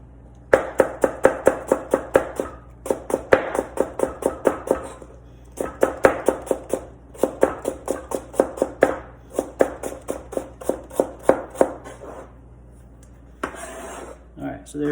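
Knife chopping salad vegetables such as cabbage on a cutting board, steady rapid taps in repeated bursts with brief pauses, close and clear, with a voice speaking intermittently.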